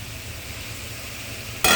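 Cauliflower curry fries in a pan while being stirred, giving a steady close sizzle with soft scraping and a louder rush of sizzling at the very end, no voices.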